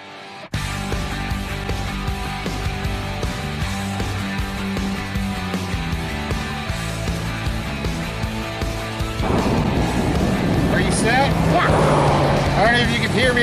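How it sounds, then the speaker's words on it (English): Steady wind buffets against a constant roar of freeway traffic in the Mojave desert near Zzyzx Road, with a voice talking at times; the rumble thickens and grows louder toward the end as vehicles pass close by. "Hear me over this wind and the freeway sound."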